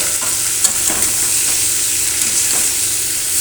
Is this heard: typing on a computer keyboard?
no